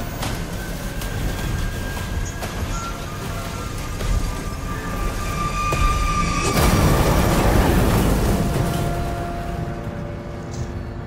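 Crash in the video game Far Cry: New Dawn, a sustained heavy roar of rail-like rumbling and metallic grinding that builds midway into a louder, harsher surge before easing off, with no voices.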